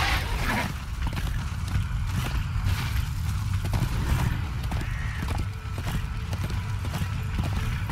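Horse hooves clip-clop at a steady walking pace in Darksiders II, sitting up front over a dense low game soundscape with an occasional creak, and no voices present.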